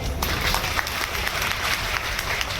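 Steady audience applause at a felicitation ceremony, dense continuous clapping that holds at an even level for the whole stretch.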